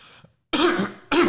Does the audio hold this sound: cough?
yes